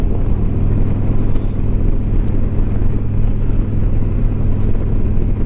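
Riding a trike on the road while passing a truck: constant loud engine and wind rumble with traffic noise, steady throughout, no voices.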